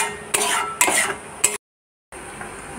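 A spoon scrapes and stirs semolina with milk in a pan in three short clattering bursts, followed by a brief silence, then quieter stirring resumes.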